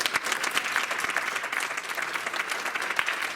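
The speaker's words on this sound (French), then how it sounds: "Bravo Massile, applaudissez-le s'il vous plaît." Sustained audience applause at an event for a humanitarian association, dense steady clapping filling the room with no pauses, moderately loud and close.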